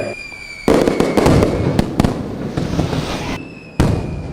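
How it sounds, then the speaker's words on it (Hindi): Firecrackers burst during Diwali celebrations, a string of sharp loud bangs and crackles close by, following a quiet start and with a final burst near the end. "क्या फटाके तूने जलाए हैं?"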